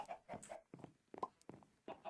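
Chickens clucking in the video game Minecraft Sky Factory 3, a few short, quiet clucks and squawks in an irregular patter.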